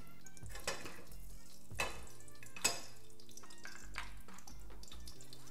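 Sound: egg frying in coconut oil in a pan

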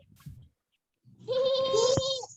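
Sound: child imitating a horse sound

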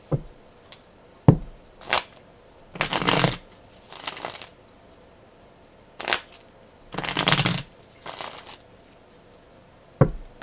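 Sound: shuffling a small tarot card deck

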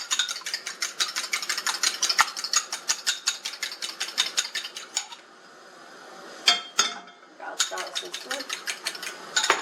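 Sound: mixing ingredients with forks in a bowl

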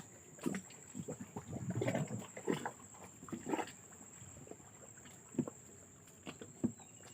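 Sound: wooden boat being lowered into the river

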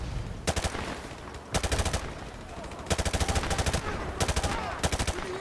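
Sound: gunfire in the video game Call of Duty 4 Remastered

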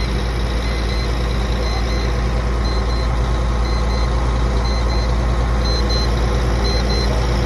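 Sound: Volvo NH 380 truck engine running (year 2000)

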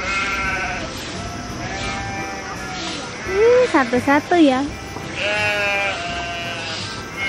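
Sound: sheep bleating

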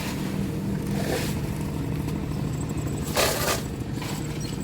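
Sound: farm tractor driving fast to refuel

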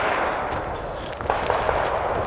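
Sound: gunfire from nearby shooting range

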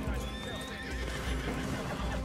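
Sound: horse whinnying and hooves in the video game Red Dead Redemption 2

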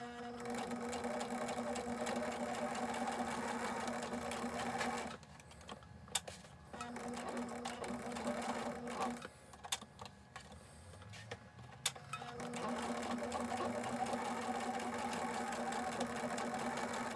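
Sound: sewing machine stitching pocket onto apron skirt

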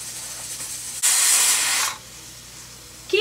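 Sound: pressure cooker whistling while cooking rice

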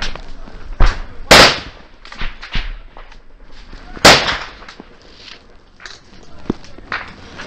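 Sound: gunfire during Taliban ambush in Afghanistan

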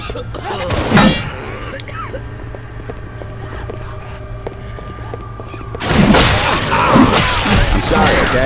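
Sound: rifle gunfire

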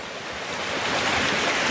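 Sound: forest stream flowing

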